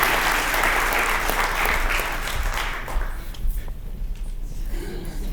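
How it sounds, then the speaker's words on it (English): Banquet audience at a hall of fame and awards dinner applauds for outstanding players, a full wash of clapping that fades after about three seconds into scattered claps and room murmur. "give them one more round of applause for the outstanding players"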